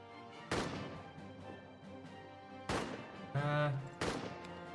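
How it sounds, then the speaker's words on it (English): Gunfire in the trench-warfare game All Quiet in the Trenches: several loud, sharp rifle and artillery cracks ring out at uneven intervals, each trailing into ringing echoes, with one rougher burst among them. "Covering fire for Menk."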